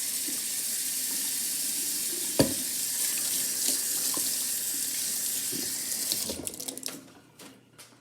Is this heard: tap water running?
yes